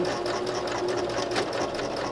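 A sewing machine runs steadily, stitching over the start of a seam on a fabric pocket tissue cover, a close, even whirring hum with a rapid needle rhythm and no pauses.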